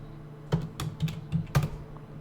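A password is typed on a computer keyboard during a JDK 8 install on Ubuntu Linux: a short run of about five close, crisp key clicks, spaced unevenly and ending with a firmer press, over a quiet room.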